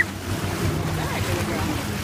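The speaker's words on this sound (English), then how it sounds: "And we're driving in reverse." A boat reversing off Haulover Beach with dolphins in its wake, a steady rush of water and wind noise at close range, loud and continuous.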